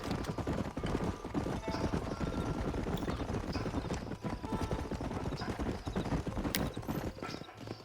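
Horses trot with steady, overlapping clip-clop hoofbeats on hard ground in the video game Red Dead Redemption, one briefly whinnying, all loud and continuous with no talking.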